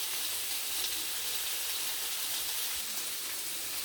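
Asparagus sizzles in a hot pan, a steady close hiss and crackle of frying with no break and no voices.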